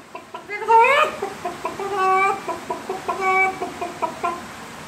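A comedian on stage imitates a chicken with his voice, giving a rising squawk followed by a rapid series of clucks and warbling bawks in a steady rhythm, loud and close.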